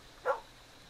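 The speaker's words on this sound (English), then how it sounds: "Okay, it's barking. That's a dog." A single short dog bark from the video game Sword & Sworcery, faint and brief over a quiet background.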